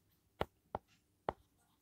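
A pen writes on paper in a quiet room, giving three short, distinct scratchy strokes spaced unevenly apart, faint and close.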